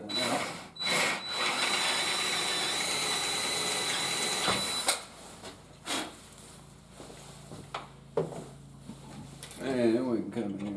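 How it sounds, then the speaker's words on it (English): A power drill with a 1/4 inch bit whines steadily as it bores into a metal lathe bracket for about five seconds, followed by quieter clatter and shuffling. "Drill this bracket one out."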